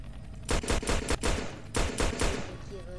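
Rapid bursts of gunfire from a gun in the Roblox prison game Redwood Prison, fired in two quick clusters of close shots with a brief pause between, loud and unaccompanied by speech.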